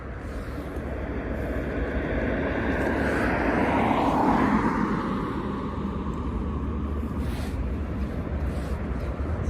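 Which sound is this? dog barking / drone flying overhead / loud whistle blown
drone flying overhead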